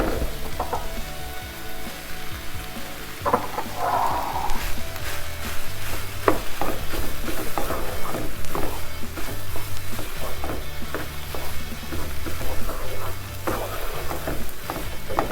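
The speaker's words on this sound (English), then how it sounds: "now I'm gonna go ahead and add the rice" Rice sizzles and fries in a pan while being stirred for arroz a la valenciana, a continuous close crackle with scraping stir strokes and an occasional low hum, with no talking.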